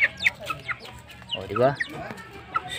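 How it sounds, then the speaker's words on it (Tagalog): Chickens cluck nearby in short, uneven bursts, with a brief spoken remark mixed in among the calls. "Mga manok naman dito."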